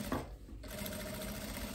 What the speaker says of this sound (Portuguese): vocês podem descer pespontando a frente, com uma costurinha bem na beiradinha